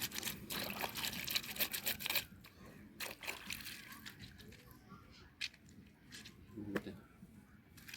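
Soft and stiff denim jeans washed by hand in a basin, the water sloshing, splashing and trickling in bursts that are busiest in the first couple of seconds before settling into lighter, intermittent dribbles.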